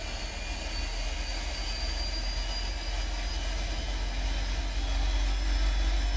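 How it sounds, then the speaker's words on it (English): Boeing 777 right engine spooling up during an automated start in the PMDG flight simulator: a steady, loud jet-engine roar with a low rumble and thin high whine, holding even and rising slightly toward the end. "Let's go ahead and start the right-hand engine. Fully automated engine start."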